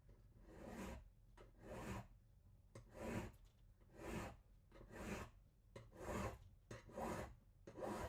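A hand file rasps against a silver and slate jewellery pendant in about ten close, rhythmic strokes, each a soft gritty scrape with brief pauses between, quiet and alone.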